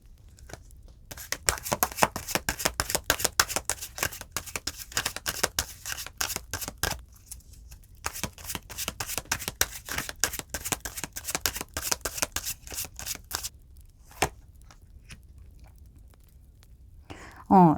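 Oracle cards get shuffled in rapid, crisp riffling bursts, close and fairly quiet, with brief pauses between rounds and a few softer snaps as cards are drawn toward the end.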